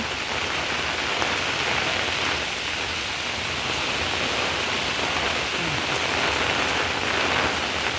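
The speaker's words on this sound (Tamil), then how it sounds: "அதிக மழை பெய்து கொண்டிருக்கிறது" Heavy rain pours steadily at Eechamodai near Jaffna during flooding, a dense, loud, unbroken hiss of drops on surfaces lasting throughout with no voices.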